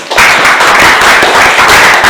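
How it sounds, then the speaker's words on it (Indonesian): Classmates clapping together in a classroom, with loud, dense, close applause held steady for about two seconds. "Sama tepuk tangan teman-teman."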